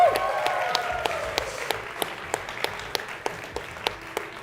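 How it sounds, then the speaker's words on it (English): Audience applause for esports competitors at the Excel Esports European Open, a fading wash of clapping under an announcer's lingering voice, with sharp individual claps standing out at a steady rhythm as the crowd thins out. "give it up for all of the competitors for Mega Elimination"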